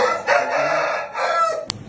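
A rooster crows in one long drawn-out call, loud and close, with a sharp click near the end and no voices.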